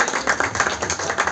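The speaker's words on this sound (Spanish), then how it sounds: "Un fuerte aplauso para él." An audience claps for an eliminated contestant on a televised singing competition. The clapping is brief, fairly close and rhythmic, with a regular beat like steady hand claps and no talking.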